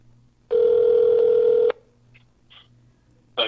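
A steady telephone dialing tone rings for about a second on a customer service call to the SBA, then a few faint, brief touch-tone beeps follow and a last tone starts at the end.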